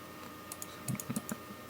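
Keys on a PS2 computer keyboard clack in a short burst of several taps near the middle, close and fairly quiet against a faint steady hum, with no one speaking.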